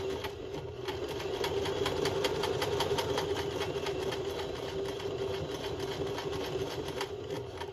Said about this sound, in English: I'll do 2 reverse stitches, 1, 2, and then go forward.